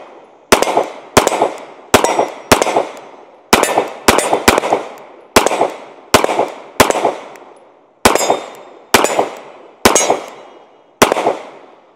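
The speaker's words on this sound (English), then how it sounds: "Let's go ahead and shoot a little bit and see how well it does." SIG P365 pistol with a 20-round magazine fired at an outdoor range, about sixteen loud sharp shots in quick irregular clusters, each with a short echoing decay.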